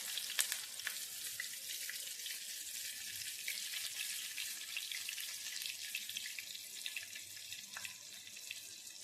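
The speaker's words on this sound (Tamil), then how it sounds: "ஆயில் நல்லா ஹீட் ஆயிடுச்சு. நம்ம எடுத்து வச்சிருக்கிறது ஒன்று ஒன்றா போட்டு நம்ம ஃப்ரை பண்ணி எடுத்துப்போம்." Potato rolls fry in hot oil with a steady, bright sizzle and crackle, close and continuous, with scattered tiny pops and no voices.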